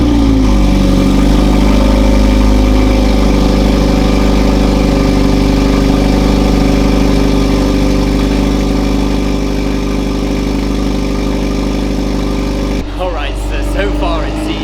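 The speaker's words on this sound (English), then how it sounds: "here is the first start with the new Akrapovic titanium exhaust" Mercedes-AMG A45 S (W177) starts for the first time with a new Akrapovic titanium exhaust and its resonator removed, then settles into a loud, steady, deep idle. A brief voice comes in near the end.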